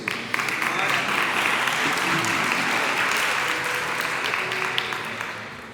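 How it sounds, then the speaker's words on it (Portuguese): A church congregation applauds together, a dense, sustained wash of clapping that holds steady for several seconds and tapers slightly at the end, with a few voices mixed in. "Vamos juntos aplaudir a palavra do Senhor."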